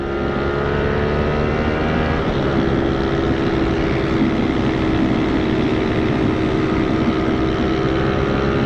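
A GPR250 V2 motorcycle engine accelerating hard, a loud, steady, close engine roar that holds throughout with a slight rise in pitch partway through, with no talking.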